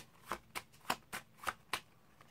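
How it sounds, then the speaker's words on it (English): A deck of playing cards is shuffled during a card magic trick, giving six short, crisp riffling bursts at an even rhythm. The sound is quiet and close, with no talking. "And I'll give them a little shuffle."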